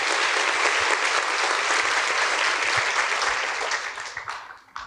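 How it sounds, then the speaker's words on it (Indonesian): A studio audience on a talk show applauds for a guest named Grace, a dense, steady burst of clapping that holds strong and then tapers off at the end, with no talking. "Kita berikan aplaus ya untuk Grace."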